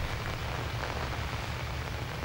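Steady rain outside in the horror video game Outlast, a dense continuous hiss with a low rumbling layer underneath, even and unbroken throughout.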